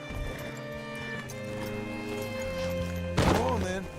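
Horse hooves clip-clopping as a rider brings the animal up and hitches it in Red Dead Redemption 2, steady footfalls under faint music, ending in a short snort or whinny.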